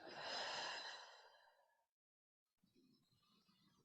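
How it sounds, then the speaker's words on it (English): A slow, deep breath is drawn and released during a breathing exercise, a soft airy rush that fades out, a short silence, then faint breathy sounds resume quietly. "Breathe in. Breathe out."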